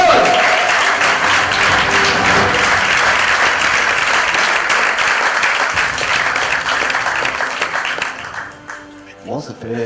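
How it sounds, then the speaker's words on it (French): Thunderous audience applause at an awards ceremony fills the room for several seconds, dense and steady before thinning out and fading near the end. "Je vous demande un tonnerre d'applaudissements pour Pierre-Olivier Roy."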